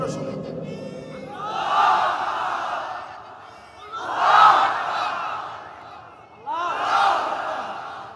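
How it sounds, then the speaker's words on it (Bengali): A large crowd at a religious sermon gathering roars the takbir three times in loud surging shouts, each a few seconds long with quiet gaps between. "দাঁড়িয়ে বাঘের মতো তিনটা তাকবীর দিবা লিল্লাহি তাকবীর বলে"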